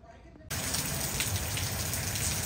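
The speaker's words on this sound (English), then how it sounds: "It's definitely raining more now than it was earlier." Heavy rain in Orlando, Florida during Hurricane Milton, starting abruptly as a loud, steady hiss of downpour that fills the rest of the stretch without pause.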